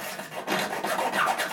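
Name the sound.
fine hand file filing the edge of an acrylic base plate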